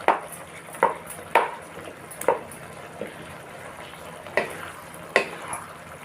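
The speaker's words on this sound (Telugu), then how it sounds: "పొటాటోస్ వేసాక మనం దీన్ని బాగా కలుపుకోవాలి." A mushroom, tomato and boiled potato curry is stirred in a pan: a spoon scrapes and knocks against the metal in irregular strokes, about seven distinct hits over a soft, low sizzle.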